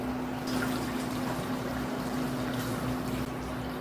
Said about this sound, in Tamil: நம்ம 2 பங்கு அளவுக்கு தண்ணி சேர்த்தணும்